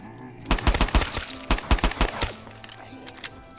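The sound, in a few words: Manhattan Project gun firing in Black Ops III Custom Zombies video game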